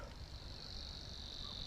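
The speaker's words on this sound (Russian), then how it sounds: "Я стою на берегу, и здесь очень громко поет какой-то сверчок." A loud cricket by a lake at night gives a continuous, even, high-pitched trill, steady and alone, with no voices.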